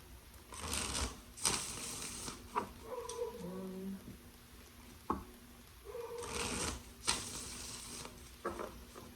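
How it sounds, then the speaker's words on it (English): Tarot cards being riffled and shuffled in several quick bursts, crisp papery flutters with short pauses between them, fairly close. "giving two more shuffles for Leo and their person."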